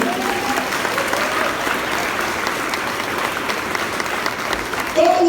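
Sustained applause from a congregation at a Portuguese-language sermon, dense, even clapping with crowd noise throughout and a brief voice near the end.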